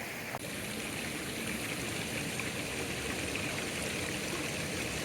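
A river flows steadily on a trail in a dry backcountry setting, its broad continuous rush close and loud with no talk over it, just a single faint knock near the start.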